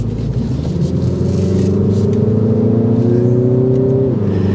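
Engine of a 2024 Mini Cooper S Hardtop pulling hard on a test drive, a loud steady interior drone with engine tones climbing in pitch and then dropping as the gear changes.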